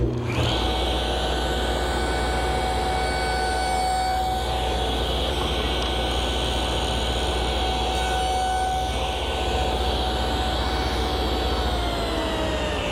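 A table saw runs continuously as it cuts tenon shoulders in tiger maple against a stop block, a loud, steady whine with sustained tonal hum lasting throughout at close range.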